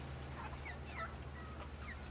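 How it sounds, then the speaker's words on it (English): Chickens in the video game Rise of Industry cluck and chirp in short bursts over a steady low mechanical hum, with a faint busy farmyard background of tractors driving around. "I can hear the sheep and the chickens."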